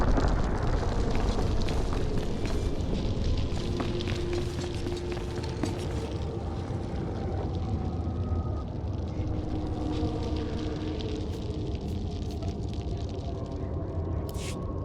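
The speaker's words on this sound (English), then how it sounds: "I heard the explosions when you set off the charges." Deep, sustained explosive rumbling from detonated set charges in Star Wars: The Old Republic, loud and dense throughout with crackling debris over a heavy low roar, no voices.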